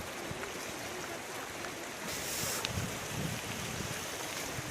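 Cold stream water flows and splashes continuously as someone crosses it on foot outdoors, a steady rushing wash with occasional sloshing steps, fairly close.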